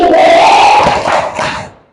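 A grade 4B class of elementary schoolchildren in an Indonesian school classroom gives a loud unison cheering shout. The close, crowded yell lasts about two seconds before it fades out.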